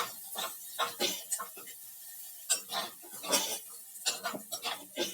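Large onions cut lengthwise are lightly sautéed in a pan for chilli sambar, giving irregular clinks and scrapes of a spatula against metal, moderately close, with brief pauses between strokes.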